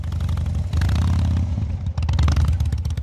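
A motorcycle engine idles and revs with its exhaust flap open, giving a loud, crackling exhaust, its rough rumble close and continuous.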